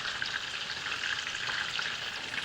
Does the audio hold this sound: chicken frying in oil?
yes